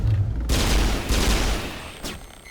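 Pistol fire in the video game Mass Effect, loud close-range bursts at the start, then more shots around the middle and near the end, layered over dense game combat noise with no talking.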